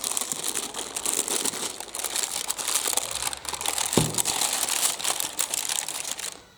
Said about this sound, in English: this is in crunchy paper